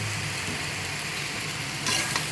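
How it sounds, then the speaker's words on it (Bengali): Boiled pasta sizzles and fries in a pan, a steady dense crackling hiss with a brief louder burst near the end as it is stirred, close and without talk. "এটা ভাজা হয়ে গেছে, এই পাস্তাগুলো দিয়ে দিচ্ছি"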